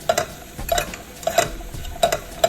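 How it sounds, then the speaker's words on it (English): Mushrooms sauteing in two tablespoons of butter in a pan, with repeated scraping stirs and light clinks of a utensil against the pan every half second or so over a soft sizzle, close and alone. "now we're gonna add in our mushroom and we're gonna saute this mushroom"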